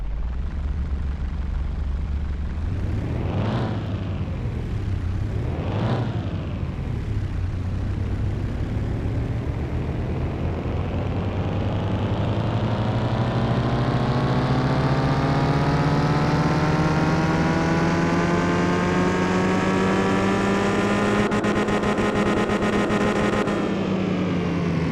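A game car engine in Car Mechanic Simulator 2021 cranks twice, catches, then revs steadily higher, its loud continuous drone climbing in pitch over about twenty seconds before easing slightly at the end.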